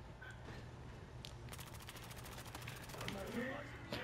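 Rapid automatic gunfire in the shooter game Battlefield Hardline, a steady burst of close shots running through the middle of the clip over a busy game background.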